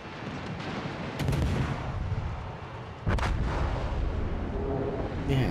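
Heavy naval gun salvos from warships in World of Warships: Legends, a Des Moines cruiser taking fire, with dense rumbling booms throughout and two sharper, louder blasts near the start and midway, no voices.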